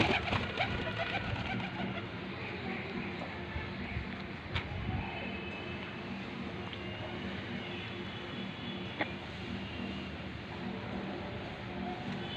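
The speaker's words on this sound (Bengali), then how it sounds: "একটা মাদা পায়রা।" A female pigeon coos in soft, repeated rounded calls close by, over a faint outdoor background with a distant car and occasional small clicks.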